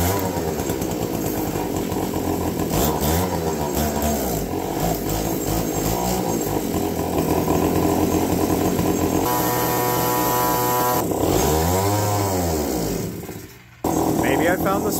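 An APC mini chopper's small engine runs loud and raspy, revving up and down in repeated swells before cutting out abruptly near the end.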